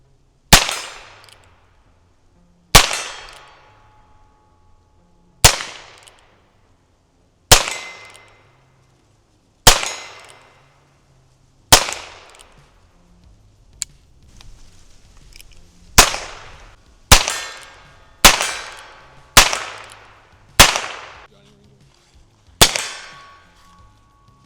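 Heritage Rough Rider revolver firing Monarch 40 grain rounds outdoors on a range: about thirteen sharp, loud, cracking shots, spaced a couple of seconds apart at first and then coming faster toward the end, each with a short ringing decay and no talking.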